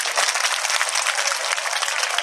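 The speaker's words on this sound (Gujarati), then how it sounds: "તમારા માટે જોરદાર તાળી" Applause from an audience at a high school retirement ceremony for a teacher, a dense burst of many hands clapping together, loud and sustained for a couple of seconds with no talk over it.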